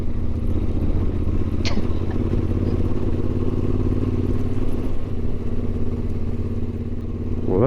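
Steady, loud motorcycle engine drone while riding a Bolivian mountain road up into the clouds, with constant road and wind rumble and a brief rev near the end.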